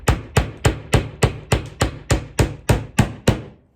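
A hammer drives nails into reclaimed wood boards for a serving tray, eleven sharp evenly spaced strikes ringing out close and crisp, each decaying quickly before the next.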